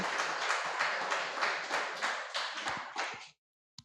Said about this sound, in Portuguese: Uma salva de palmas para o nosso Deus, que ele é digno